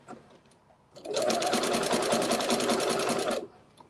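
Sewing machine stitching a quilt, running in one steady burst of rapid, even needle strokes for about two and a half seconds, loud and close, with quiet room sound before and after.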